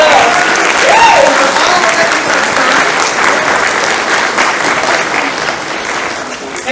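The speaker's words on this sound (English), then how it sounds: "a huge round of applause" Loud, sustained applause from a sizable crowd at a game development panel event, steady clapping throughout with a brief whistle or cheer near the start.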